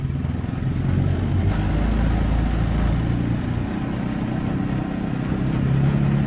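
Small mini jeep engine runs steadily in first gear while driving, a continuous near, moderately loud putter and rumble with slight pitch shifts and no talk.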